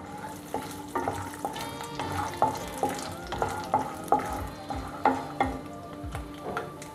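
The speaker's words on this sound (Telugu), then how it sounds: "2 to 3 టేబుల్ స్పూన్స్ ఆయిల్ తీసుకుని అది వేడైన తర్వాత మనం దీంట్లోకి ఆవాలు, జీలకర్ర, పల్లీలు వేసి ఫస్ట్ వేయిద్దాం" Mustard seeds, cumin and peanuts tossed into hot oil for a Telugu stuffed brinjal curry, with crackling sizzle under repeated sharp scraping and stirring clatter of a spoon against the pan, close and rhythmic.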